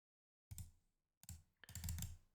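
Computer keyboard keys tapped in short bursts, with one firmer press on the enter key, close and clear, with a pause between bursts and no talking.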